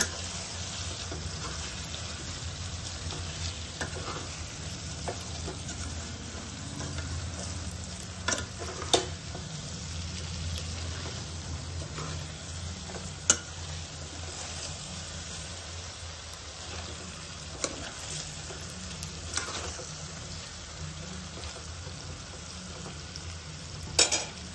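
Gutti vankaya curry, stuffed brinjal, fries and sizzles steadily in a pan while a spoon occasionally scrapes and clicks against it, a continuous close hiss with a few sharp knocks and no talking.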